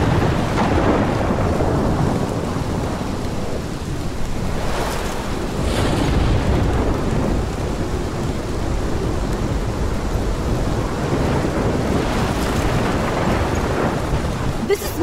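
Thunderstorm in the game Life Is Strange, a dense roar of wind and rain with rolling thunder swelling in several heavy rumbles, loud and continuous throughout.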